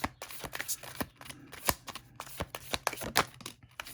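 Tarot cards being shuffled and drawn, a run of crisp riffling flicks and slaps in quick irregular succession, close and clear with no talking.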